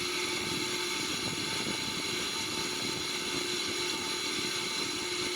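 Steady, loud engine drone of a Boeing 777-300ER in a flight simulator game, a constant broadband roar with a low hum underneath, unbroken throughout with no talk.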